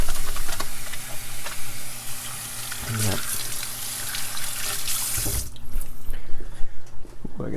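Jalapeno rinsed under a running kitchen tap, a continuous hissing water stream that cuts off abruptly near the end, followed by faint handling noises.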